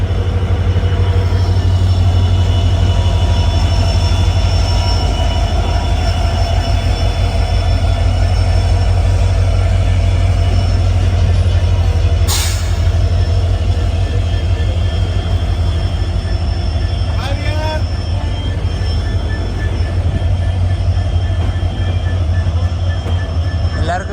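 Inside the Uttar Sampark Kranti Express, a 3AC economy coach running into Jammu Tawi station: a loud, continuous rumble of wheels and carriages with faint rhythmic clacks and a brief sharp metallic burst midway.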